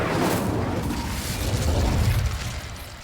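The Incendio fire spell from Hogwarts Legacy erupts in a loud, rushing whoosh with a deep rumbling burst that sustains and slowly fades over a few seconds.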